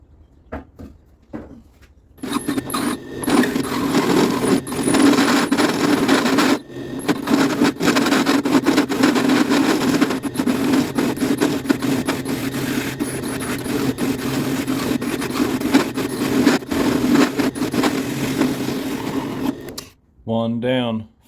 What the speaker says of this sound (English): So I got this hole saw, and that's pretty good. So we're going to do 4 holes there,